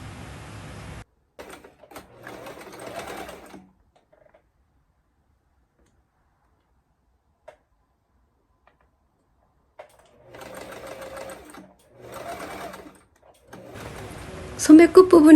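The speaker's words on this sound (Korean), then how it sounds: "박음질을 합니다." A sewing machine stitches a dress sleeve with a rapid mechanical chatter in several separate runs, broken by long quiet pauses, close and clear.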